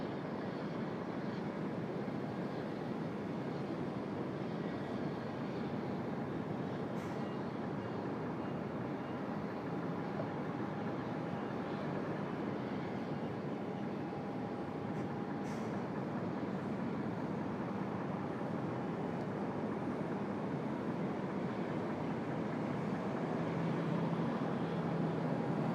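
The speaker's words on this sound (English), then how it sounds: "Righto, starting their takeoff roll." Steady, broad engine roar from an airliner beginning its takeoff roll at Sydney Airport, bound for Nadi, holding a loud, even rumble with a faint tonal whine throughout and no talk.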